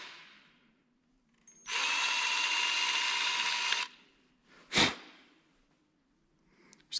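A loud, steady power drill bores into a metal shop vac part for about two seconds, stops, then a short sharp burst follows, with quiet gaps around it.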